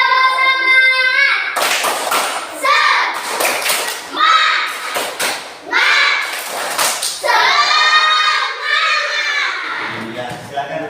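Schoolchildren in a classroom perform a rhythmic encouragement clap, loud, patterned bursts of hand claps mixed with chanting young voices, stopping and starting across the whole stretch.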